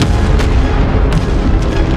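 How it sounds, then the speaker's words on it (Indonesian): A huge explosion in a film, heard as a loud, dense roaring rumble that fills the whole stretch without a break, with a few sharper crackling bursts on top. "kemudian terjadi ledakan dahsyat."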